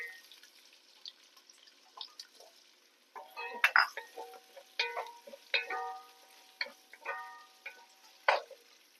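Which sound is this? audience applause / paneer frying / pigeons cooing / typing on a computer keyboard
paneer frying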